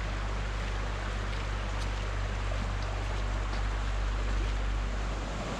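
A continuous broadband rush of falling water at Bambarakanda Falls, Sri Lanka, with a low rumbling undertone, steady and unbroken throughout.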